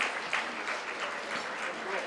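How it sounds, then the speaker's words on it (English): Applause from a dinner-event audience, a dense, moderately faint patter of clapping with some voices mixed in. "I want the table 30 to clap there, to applaud, please"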